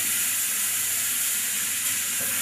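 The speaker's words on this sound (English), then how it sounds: "while you're frying your onions, when they're sort of halfway, you put in your mustard seed." Onions and mustard seeds frying in a pan give a loud, steady sizzle and hiss that holds evenly from start to finish, close up with no voices.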